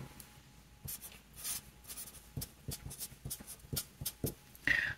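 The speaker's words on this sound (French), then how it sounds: "Je vais l'écrire en dessous du tableau." Pen or marker writing on paper below a table for a math exercise: faint, close scratching strokes in short irregular bursts, with soft rubs and taps in a quiet room.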